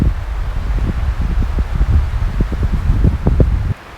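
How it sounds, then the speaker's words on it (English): Gusty wind blows outdoors on an overcast day, a steady low roar buffeting the microphone with rustling bursts, loud and continuous until it suddenly drops away near the end. "That wind."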